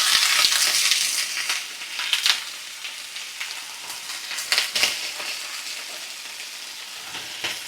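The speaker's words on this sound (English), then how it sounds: "I think I'm going to cook the zucchini up first because there's not much room in the pan" Zucchini frying in a crowded pan, a dense, continuous sizzle with crackling bursts and occasional sharper spits, close and fairly loud, with no talking.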